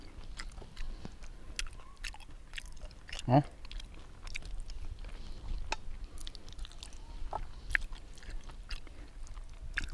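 Close-up biting and wet chewing of stewed beef leg with a little bone, with one sharp crunchy bite and steady mouth sounds, alongside quiet talking.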